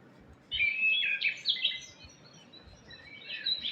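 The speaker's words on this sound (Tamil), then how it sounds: "வானத்தில் இருந்து ஒரு பறவை பறந்து வந்து அதன் அருகில் அமர்ந்தது." A small bird chirps in a quick run of bright, high tweets, then trails off into softer, scattered calls, alone against a quiet background.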